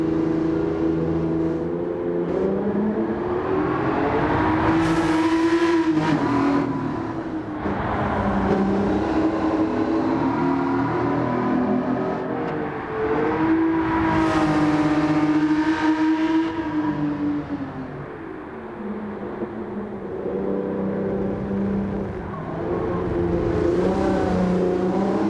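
In Gran Turismo 7, a Nissan Z with a VQ engine revs and accelerates through gears, its tonal engine note rising and falling in several loud sweeps with brief drops between shifts and no talking.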